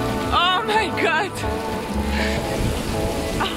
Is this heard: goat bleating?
no